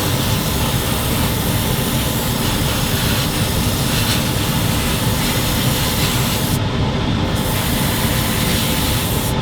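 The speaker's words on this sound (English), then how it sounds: "I can actually spray them a little bit here" A loud, continuous hiss of an aerosol spray paint can on a 1/35 scale model, held close and sustained for several seconds with a brief break near the end.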